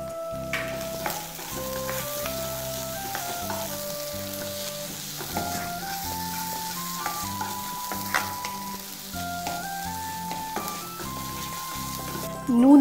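Ground prawn paste frying with salt and spices in a pan, a steady close sizzle with constant stirring, background music faintly underneath and a brief louder scrape at the end.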